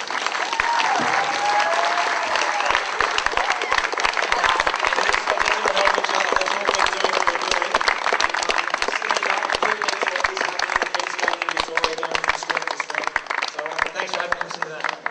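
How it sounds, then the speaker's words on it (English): A sustained round of applause from an audience at a speech event, loud, dense clapping carrying on steadily for a long stretch, with some cheering or voices mixed into the crowd noise. "let's give John a huge round of applause"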